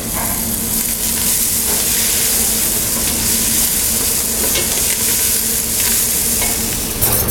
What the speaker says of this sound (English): And I add my onions. And we'll let that cook for a couple of minutes. Add a little bit of turmeric.